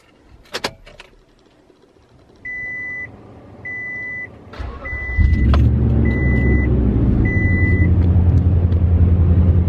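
Toyota Tundra truck engine cold starting: a few beeps sound first, then the engine cranks and catches into a loud, steady idle rumble that continues to the end.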